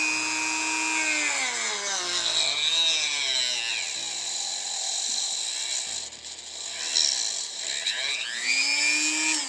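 A Dremel rotary tool cuts a piece from an action figure, its steady high whine sweeping up and down in pitch as the bit bites into the plastic and eases off, continuous and close throughout.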